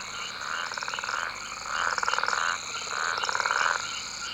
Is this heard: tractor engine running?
no